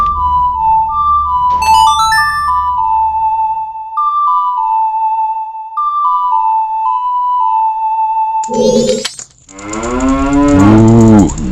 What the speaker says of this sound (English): we're going to walk up to this poor cow that somehow got itself lost under the well